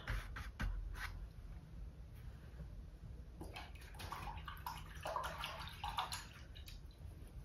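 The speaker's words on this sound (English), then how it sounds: "Make sure you remember to rinse your brushes out." Paint brushes for acrylic painting being rinsed in a water container, with quiet intermittent swishing, clinking and dripping close by.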